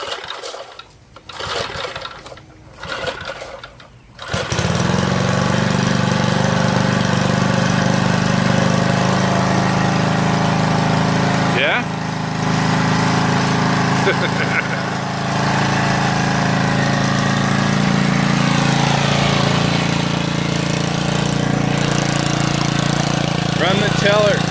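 Small garden tiller engine starts up and runs steadily at a loud, constant drone for about twenty seconds, with a brief dip partway through, after a few seconds of people talking nearby.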